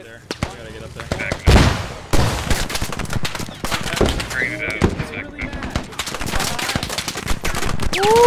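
Gunfire in the military shooter Squad: sharp rifle shots and short automatic bursts crack loudly and close over a rumbling battlefield, with voices talking in between.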